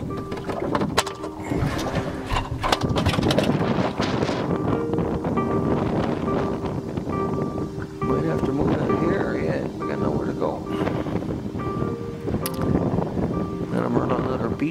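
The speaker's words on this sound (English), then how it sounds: "The wind keeps changing, it comes in circles around." Strong storm wind roars across a beach, gusting steadily for the whole stretch with heavy buffeting on the microphone, and a voice speaks over it now and then.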